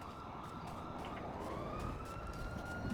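A police siren wails in a Grand Theft Auto V game scene, a steady electronic tone rising slowly in pitch over a dense, loud rumble of engine and traffic noise, continuous throughout with no talk.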